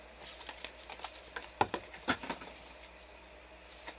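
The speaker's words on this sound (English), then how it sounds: "These are kind of a hard one to shuffle." Oracle cards from a Lovers Oracle deck being shuffled by hand, a string of soft papery riffles and flicks with two sharper slaps midway, close and fairly quiet with no talking.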